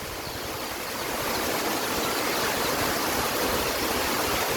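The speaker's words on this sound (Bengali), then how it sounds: "এখন বৃষ্টি হচ্ছে" Steady rain falls in a dense, even hiss that swells slightly after the first second and then holds constant, with no voices.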